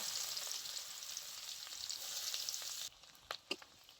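Onions frying in hot oil with bay leaves and dried red chilies, a loud, dense close sizzle that cuts off abruptly, followed by a few faint clinks and soft knocks.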